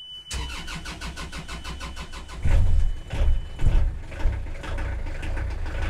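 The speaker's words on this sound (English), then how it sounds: "Right. Engine start." A boat's inboard engine cranks with a fast rhythmic starter churn, then catches and settles into a steady close, loud idle rumble.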